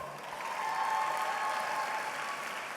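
Sustained applause from the audience at a Destrehan High School graduation ceremony, steady and moderately loud throughout without a break.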